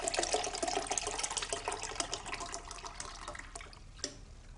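Pink grapefruit juice pours from a carton in a kitchen, a steady splashing liquid stream that runs throughout at moderate loudness, no talking.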